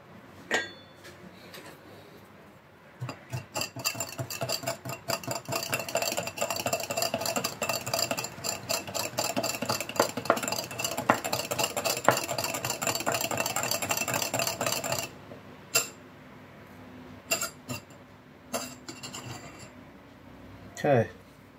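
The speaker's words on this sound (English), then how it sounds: "This we're gonna whisk it up." Whisk beating a mixture in a bowl for baked Chinese BBQ pork buns, a rapid, continuous clattering of metal against the bowl for about twelve seconds, then a few scattered taps and clinks.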